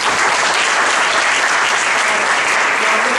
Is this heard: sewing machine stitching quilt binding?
no